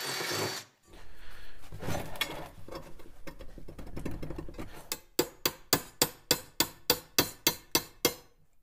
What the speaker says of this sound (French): Avec un forêt à métal, Kuhn perce maintenant les trous où les points de soudure seront réalisés par la suite.